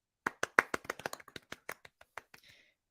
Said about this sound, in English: We'll give him a little clap each name.